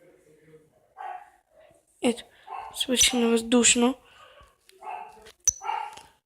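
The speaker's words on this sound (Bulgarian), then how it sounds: "Кучето нещо лае." A dog barks in a short cluster of loud, close barks mid-clip, with someone talking before and after it.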